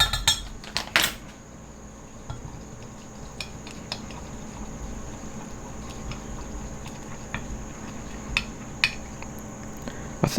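A teaspoon clinks against a pot of hot bait plastic while adding colorant, giving a few sharp metallic taps near the start and later, over a low steady simmering hiss and hum.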